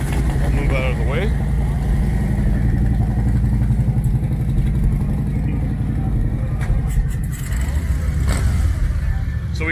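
A Chevrolet Corvette Stingray Grand Sport engine running loudly at a car cruise, a steady deep rumble with some clatter throughout, heavy and close, with people talking over it.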